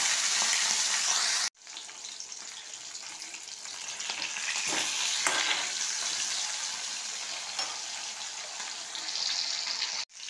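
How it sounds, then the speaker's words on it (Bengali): Pomfret fish fry in hot white oil with a loud, continuous sizzle and crackle, close up, broken by a brief pause and a few bursts of spattering. "মাছটা আমার ভাজা হচ্ছে।"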